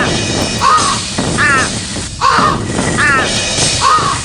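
Crows cawing in the video game Thirty Flights of Loving, a run of loud, harsh caws repeating about every three-quarters of a second over steady game background noise.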